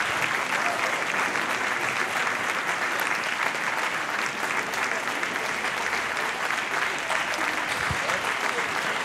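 Sustained applause from a horse show audience at a CDI 4* dressage event in Wiesbaden fills the whole stretch, steady and dense, rewarding a completed dressage ride.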